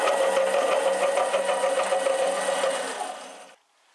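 A mini lathe turning a steel workpiece as the carriage feeds the cutting tool in, giving a steady motor whine with a faint chattering texture that stops abruptly near the end.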